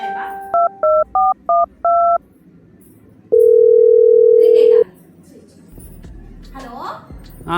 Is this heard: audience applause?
no